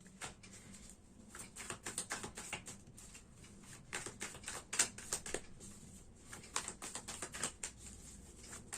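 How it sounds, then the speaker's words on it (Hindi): Tarot cards being shuffled by hand: a quick run of soft, papery riffles and flicks in uneven bursts, fairly faint and close, with no voice over it. "तो चलिए आपके लिए कार्ड्स शफल करते हैं।"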